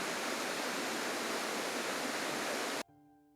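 A waterfall on the Chattooga River watershed roars as a steady, dense wash of falling water, loud and unbroken, then cuts off abruptly into quiet tones near the end.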